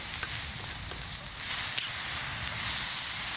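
Steak with peppers sizzles in a camp frying pan over a Tigris firebox, giving a steady close hiss with a few small crackles and pops.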